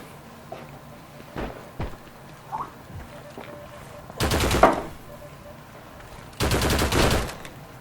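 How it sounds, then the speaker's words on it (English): An M2 heavy machine gun fires in the Heroes & Generals video game with two loud rapid bursts of about a second each, separated by quieter background game sounds. "Picks up an M2 at some point and just kills a lot of players."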